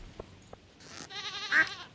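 A sheep in the farming video game Stardew Valley lets out a single wavering bleat, rising clearly and close after a few soft clicks and a brief burst of hiss.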